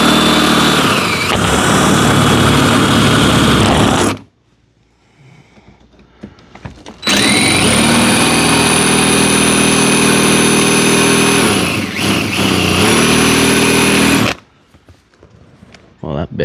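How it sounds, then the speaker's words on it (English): Power drill boring holes in the wheel well of a third-generation Ram pickup, two long loud stretches of whirring and grinding split by a quiet pause, close to the ear. "Get those holes drilled, get these mud flaps off."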